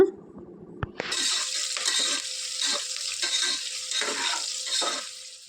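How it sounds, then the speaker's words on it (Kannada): Chopped onions frying in oil in a pan for chicken soup, heard as a steady loud sizzle that starts with a clatter and continues with stirring scrapes. "ಹಾಕ್ಕೊಂಡಿರುವಂತಹ ಈರುಳ್ಳಿ ಕಂಪ್ಲೀಟು ಬ್ರೌನ್ ಕಲರ್ ಬರಬೇಕು, ಅಂದರೆ ಚೆನ್ನಾಗಿ ಆಯಿಲಲ್ಲಿ ಫ್ರೈ ಆಗಬೇಕು."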